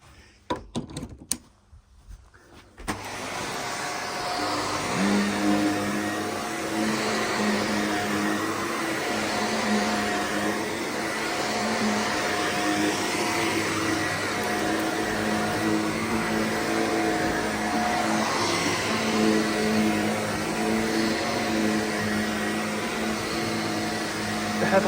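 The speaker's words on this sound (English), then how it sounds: "We've got a wardrobe I can vacuum." A Shark vacuum cleaner runs in a holiday lodge, starting after a few seconds of clatter and then holding a steady droning whine with a constant hum, close and loud, with faint handling bumps.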